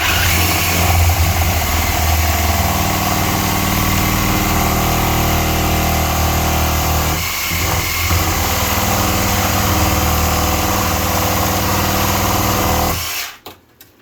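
A power tool shaves wood back to level during a bathroom makeover, running loud and steady with a slight dip midway, then cutting out abruptly near the end.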